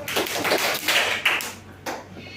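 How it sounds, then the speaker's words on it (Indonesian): A school class claps hands together in unison, a few sharp group claps at a steady pace, close and fairly loud in an indoor classroom. "Tepuk tangan tiga kali."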